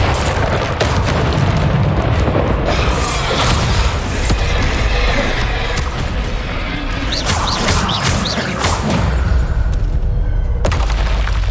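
A Bombarda spell blast in Hogwarts Legacy erupts amid dense, loud crashing and rumbling, with sharp impacts and debris-like clatter filling the whole stretch.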